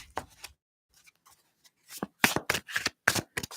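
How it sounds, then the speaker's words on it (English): Tarot cards shuffled by hand, soft scattered riffling bursts at first, then a quick run of louder crisp flicks and slaps close by, with quiet pauses between. "I want to shuffle one more time"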